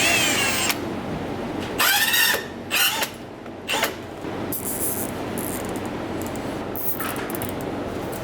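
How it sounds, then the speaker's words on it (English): Short bursts of a power drill whining up to speed as it drills through plastic, three or four quick spurts close by with pauses between, over a steady background hum. "I'm drilling them out so that I can run a zip tie through them."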